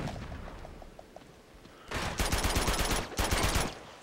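Video game gunfire from Uncharted 2 as a full magazine is emptied: a faint, sparse tapping of distant shots, then two loud rapid automatic bursts back to back, with no talking.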